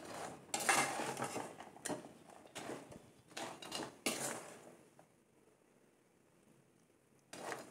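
A spoon scrapes and clinks against a pan while sugar syrup is stirred over a medium flame, several bursts of metallic stirring separated by pauses, fairly faint and close, with a final scrape at the end.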